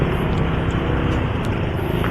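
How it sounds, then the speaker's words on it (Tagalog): A tow truck passes on a road after light rain, a steady loud rumble of engine and road noise that stays close throughout, with no talk. "Uy, tow truck oh."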